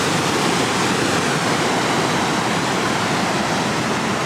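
The Rogue River rushes at its natural bridge on a morning outdoors, a loud, unbroken broadband roar of churning water, steady throughout with no voices.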